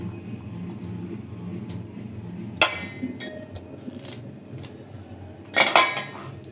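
Boiled Maggi noodles are mixed with ginger paste in a bowl, with a soft background hum and a few sharp metallic clinks and scrapes of a utensil against the dish.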